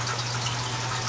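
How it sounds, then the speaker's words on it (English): Gentle, steady trickle of water running through a patio planter, a soft continuous wash with a faint low hum beneath, close and unbroken. "And listening to that tranquil"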